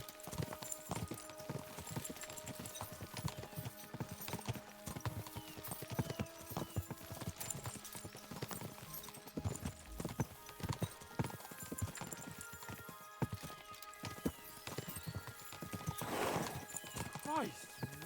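Horses' hooves clip-clop steadily on the move in the video game Kingdom Come: Deliverance II, a brisk continuous rhythm at moderate distance, with a neigh breaking in near the end.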